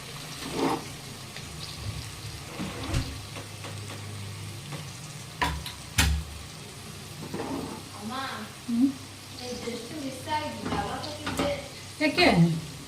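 Chopped ridge gourd tips into a hot oiled pan on the stove and starts to fry, giving a steady close sizzle broken by clatter and stirring scrapes, while someone talks over it now and then.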